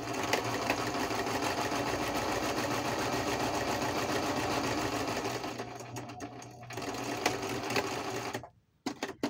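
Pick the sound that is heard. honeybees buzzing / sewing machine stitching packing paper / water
sewing machine stitching packing paper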